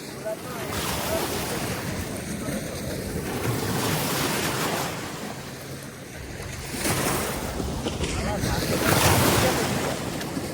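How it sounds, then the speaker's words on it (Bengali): Churning river water and waves stirred up by a fast speedboat, a broad continuous wash of surf-like noise swelling and easing in surges, with wind buffeting the microphone throughout. "ঢেউ দেখাটাই তো মজা।"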